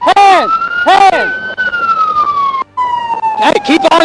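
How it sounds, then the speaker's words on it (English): Loud police car siren wailing close by from a pursuing patrol car, rising and falling yelps that shift into a long steady tone, with shouted voices breaking in over it. "I'm gonna turn the siren off."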